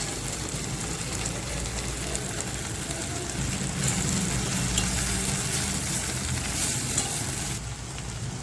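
Okra curry sizzles steadily in a pan while thickened peanut powder paste is stirred in, a continuous close frying hiss with soft scraping of the spoon throughout.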